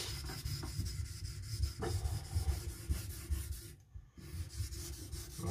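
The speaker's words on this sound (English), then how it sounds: "I'm just thinning it a little behind the edge now." A knife is sharpened on a stone, with the area just behind the edge being thinned. Steady back-and-forth grinding strokes rub close and continuous, with a brief pause near the end, and no speech.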